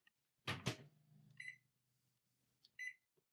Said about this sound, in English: we'll just put it in the microwave